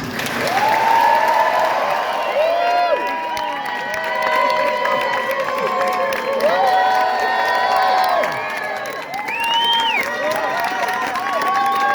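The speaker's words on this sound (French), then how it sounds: "On peut les applaudir pour les féliciter." Wedding guests applaud the couple and the clapping runs on steadily. It mixes with lively crowd chatter, whoops and excited overlapping voices.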